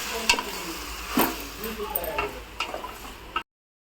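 Masala for meal maker pulao being stirred in a pan, a soft scraping and sizzling that runs steadily for about three seconds, close and fairly quiet, with no one talking.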